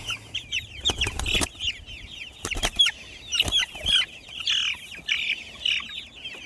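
Chickens cluck in bursts of repeated, fairly close calls beside a chicken tractor, with a few thumps and wing flaps mixed in over several seconds.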